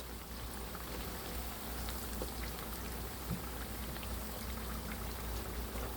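Samosas fry slowly in a pan of hot oil, a quiet, steady bubbling sizzle with soft crackles and pops close by, with no talking.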